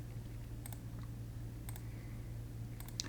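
Computer mouse clicks while drawing bonds in chemistry structure-drawing software, a few sparse, sharp clicks spaced over a steady low hum, close and fairly quiet with no talking.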